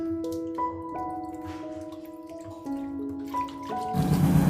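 Soaked tomatoes being washed and rubbed by hand in water, with small drips, splashes and squishy handling sounds, and a louder watery swirl near the end, set against a sustained melodic background tone.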